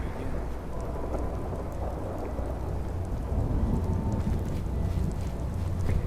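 Steady heavy rain pours throughout a stormy scene in Fallout 4, with low, rolling thunder rumbling underneath and swelling louder in the second half, and no voices over it.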